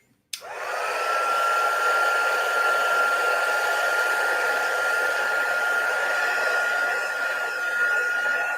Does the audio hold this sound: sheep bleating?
no